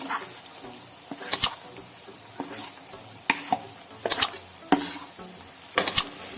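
Masala is stirred into okra sabzi in a pan, a soft sizzle carrying throughout while a spoon scrapes and clinks against the metal in several sharp strokes, close and clear, without talk.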